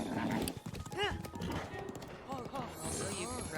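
Horse hooves in the video game Breath of the Wild clop in a quick galloping rhythm, nearly continuous under a dense mix of game sounds and melodic chimes.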